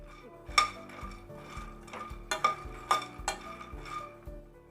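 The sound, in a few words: makhana (fox nuts) dry roasting in a pan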